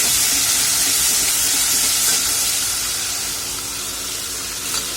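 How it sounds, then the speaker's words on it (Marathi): Ginger garlic paste sizzles in hot oil for a dhaba-style rajma chole curry, a steady close broadband hiss that eases slightly toward the end, with no voices. "तेल आपलं छान तापलं आहे तर आपण यामध्ये आलं लसूण पेस्ट घालून घेणार आहोत"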